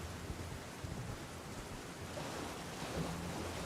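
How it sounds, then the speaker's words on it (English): Steady rain hisses and patters through a dark thunderstorm in the Elden Ring Shadow of the Erdtree game world, a constant wash of noise with a faint low rumble underneath and no voices. "The weather's terrible. When it rains, it pours."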